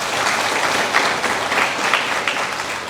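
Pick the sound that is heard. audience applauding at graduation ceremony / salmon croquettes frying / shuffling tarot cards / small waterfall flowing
audience applauding at graduation ceremony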